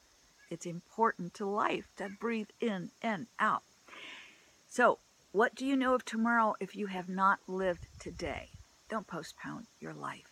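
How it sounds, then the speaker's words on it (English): Cicadas sing in a backyard as a steady, high, continuous drone that runs under a calm voice talking almost without pause. "Listen to the cicadas singing."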